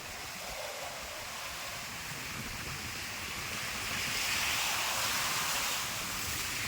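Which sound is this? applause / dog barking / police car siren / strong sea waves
strong sea waves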